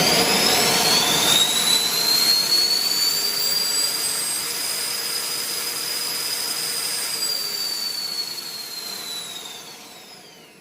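An electric supercharger motor runs at full throttle, a loud sustained high-pitched whine that holds steady for several seconds before winding down at the end.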